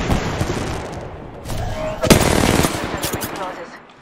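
Apex Legends gunfire on high settings, with rapid automatic bursts and sharp shots crackling close by, building to a loud cluster of impacts midway before tapering off.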